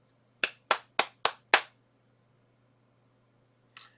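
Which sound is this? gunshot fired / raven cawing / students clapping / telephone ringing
students clapping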